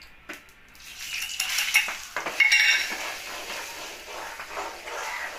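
Red chili powder, Maggi masala and black masala hit hot oil for a cauliflower sabzi, giving a brief sizzle with spoon clinks and stirring scrapes against the pan, fairly close and fading to a soft hiss.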